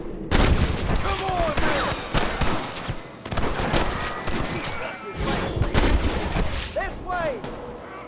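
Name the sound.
gunfire in the video game Red Dead Redemption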